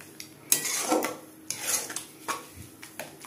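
A spoon stirs a grated mango jelly mixture in a pot, making soft scraping strokes and occasional light metallic knocks against the pot in an irregular rhythm, close and quiet.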